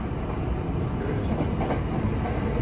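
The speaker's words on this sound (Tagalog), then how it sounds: "May tren, no?" A train rumbles past nearby, a steady, loud roar of wheels and carriages with no pauses.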